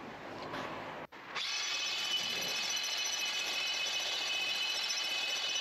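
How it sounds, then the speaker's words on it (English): A power sander with a coarse disc grinds epoxy resin off a wooden log lamp. It whirs briefly, drops out for a moment, then runs as a loud, steady, close whine to the end. "There's a lot of resin to come off here, so I've got quite a coarse disc there."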